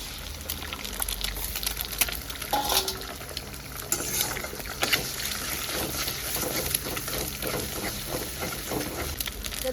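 Chopped onion and egg are stirred and fried in a pan, giving a continuous sizzle with scraping and clinking from the stirring utensil against the pan, steady and fairly close throughout.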